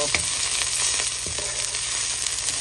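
Scotch bonnet pepper and thyme sputter in a hot pan, giving a loud, steady sizzle with a few sharp pops, close and without talk.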